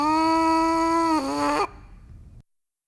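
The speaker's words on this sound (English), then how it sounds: "Take a full breath and buzz into the mouthpiece." A lone trumpet mouthpiece buzzed with the lips, one sustained tone that sags slightly in pitch midway, then stops abruptly and leaves a short breathy tail.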